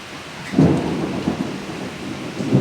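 Low rumbling thunder rolls through steady rain, swelling in a few heavy surges over a continuous wash of falling water.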